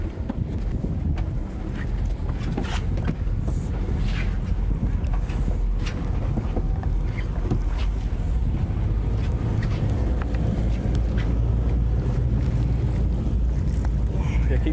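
A pleasure boat's engine idles and churns steadily while the boat spins in place, with wind buffeting the microphone and water noise throughout; voices talk over it.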